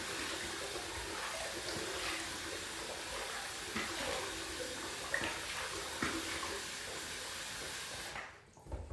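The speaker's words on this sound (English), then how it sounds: "take some of that water and also some water from the faucet" Water running from a sink faucet during shaving preparation: a continuous moderate splashing rush with small irregular spatters, steady throughout and then stopping near the end, with no talking.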